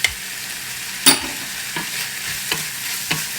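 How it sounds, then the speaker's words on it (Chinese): Basil leaves stir-fried in a wok give a constant bright sizzle. Clear spatula clacks and scrapes land at irregular intervals, close up and with no talking. "炒匀"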